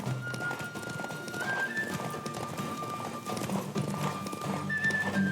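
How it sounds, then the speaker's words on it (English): Rapid hoofbeats of a galloping horse in The Witcher 3: Wild Hunt, with a whinny over steady background noise and music-like tones, moderately loud and continuous. "Don't spare the horse!"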